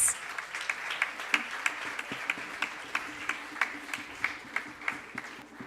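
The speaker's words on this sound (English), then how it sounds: "can we have a big round of applause for our own self" Steady, moderately distant applause from an audience at an inauguration ceremony, with evenly spaced claps running throughout and no talk over them.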